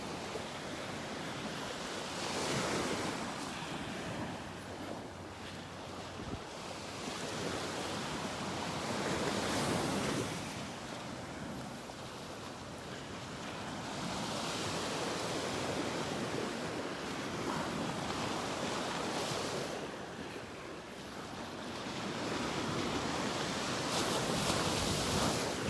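Ocean waves break steadily on a beach in North Naples, Florida, a continuous loud wash of surf that swells and recedes in slow cycles every few seconds, with wind rushing over the microphone and no talking.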